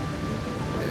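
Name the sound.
heavy rain and thunderstorm in video game Kai no Kiseki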